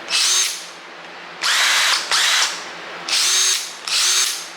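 A Hitachi impact wrench whirs in four loud, sustained bursts, each lasting about half a second to a second, close by with brief pauses between, during engine work on a 2010 Subaru Outback Sport.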